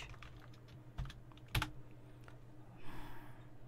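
Typing a prompt on a computer keyboard: a few scattered, soft key clicks with one sharper tap, recorded close but quiet and alone, with no talking.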